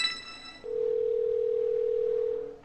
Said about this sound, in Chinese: 手机打电话。